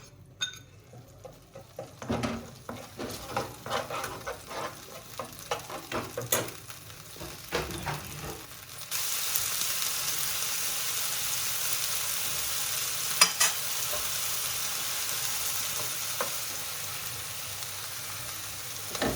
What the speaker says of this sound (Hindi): थोड़ा सा ऑयल है हमारा इसके अंदर, इसी के अंदर लहसुन अदरक डाल देंगे।